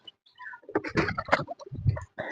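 Domestic pigeons call outside their coop in a few short, close coos and throaty notes, with soft rustling between calls.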